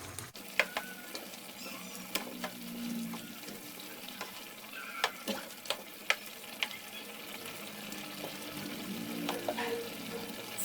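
A spoon stirs pork tips in a pan as the sauce thickens, with soft scraping and liquid sloshing over a low simmering sizzle and a few sharp clinks against the pan.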